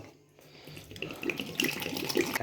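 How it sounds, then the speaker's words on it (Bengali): Water is poured into a mug of sattu drink mixed with black salt and lemon, a splashing, trickling stream that builds and grows louder over the second half, no talk. "এবারে দেবো জল"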